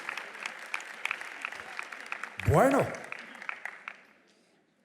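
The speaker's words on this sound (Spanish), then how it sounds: "démosle un aplauso a todos los que tienen su Biblia" Applause from a crowd fills the clip, a steady patter under a brief spoken word, fading out toward the end.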